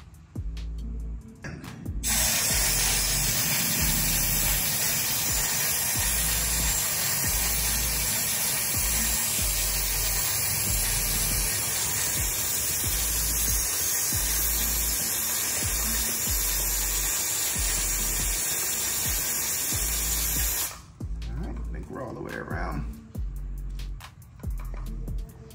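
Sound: spraying motorcycle chain

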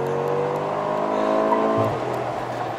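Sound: Mercedes G63 AMG accelerating hard, tyres seeking grip

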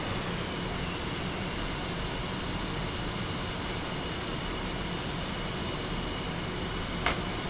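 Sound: F-5E Tiger II jet engines idling in video game DCS

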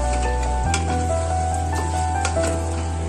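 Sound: stirring and frying mutton with potatoes

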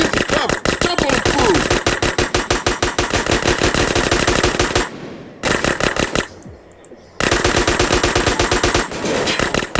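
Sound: gunfire in GTA San Andreas video game

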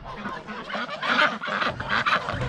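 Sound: ducks and geese being let out

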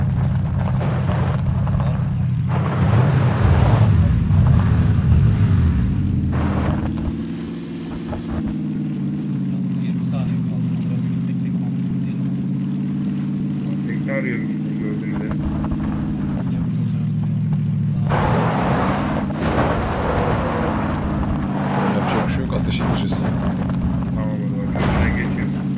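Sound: boat engine in video game PUBG

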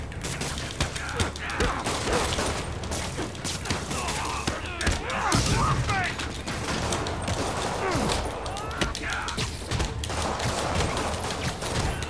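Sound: gunfire in the Spider-Man video game

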